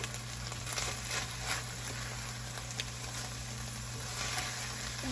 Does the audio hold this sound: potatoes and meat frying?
yes